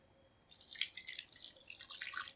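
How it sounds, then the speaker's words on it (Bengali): A little water is poured into a cooking mixture of blended ingredients, giving a soft, close trickle and drip that starts after a brief quiet and continues faintly to the end. "এবার একটু এতে অল্প করে একটু জল দিয়ে দেবো"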